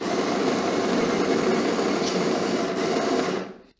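A 150 watt electric coffee grinder runs on a portable power station, a steady close buzzing whir held for about three seconds before cutting off abruptly.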